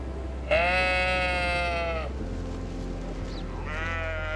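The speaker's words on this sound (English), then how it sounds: "hardy Faroese sheep graze on the abundant grasses" Faroese sheep bleat in open grassland, one long wavering call close by followed by a second starting near the end, over steady low wind rumble.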